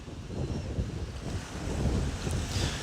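Choppy lake water sloshing at a waterfront in Etobicoke at sunrise, buffeted by wind that rumbles across the microphone, rising and falling in uneven gusts with no voices.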